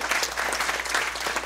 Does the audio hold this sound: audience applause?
yes